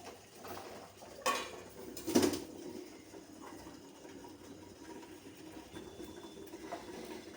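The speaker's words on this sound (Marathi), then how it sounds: "आता आपल्याला यावर हे ताट ठेवायचं आहे" A metal plate set down on a pot steaming inside a larger vessel, giving a couple of sharp clanks and a clattering rattle amid quiet kitchen background, no voices.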